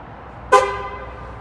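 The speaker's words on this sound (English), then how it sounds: "when it honks like that, you know one of them worked" A single short Ford Mustang horn honk, fairly close, with a brief tonal blare that fades quickly into quiet background.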